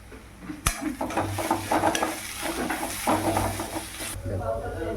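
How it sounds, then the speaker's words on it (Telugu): Red chili powder fries and gets stirred in a pan for a drumstick and tomato pulusu curry, with steady scraping strokes and a soft sizzle running throughout at close range, and no talking. "కారం పచ్చివాసన పోయే వరకు వేయించుకున్న తర్వాత"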